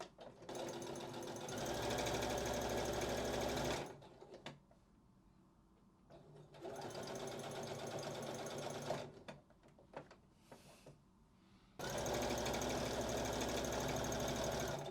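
A sewing machine stitches fabric straps in three steady, loud bursts of rapid mechanical whirring, separated by quieter pauses filled with light handling and rustling of cloth.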